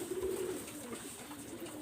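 A pair of Pakistani Teddy pigeons coo softly through a hissy background, making low, faint, murmuring calls.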